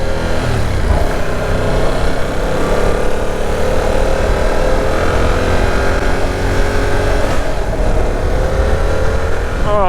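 A 2022 Yamaha R7 sport motorcycle engine under riding load, a loud, steady drone with rising and falling pitch as the rider shifts through the revs, wind rushing over it throughout.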